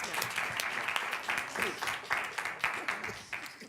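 Applause from a modest audience at a school board meeting, steady clapping of moderate loudness lasting the whole moment, with some voices mixed in underneath.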